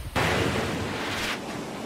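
A heavy wave crashes against a seawall during a typhoon, a sudden loud burst of rushing, hissing water that surges for about a second and then drops back to a dull background roar.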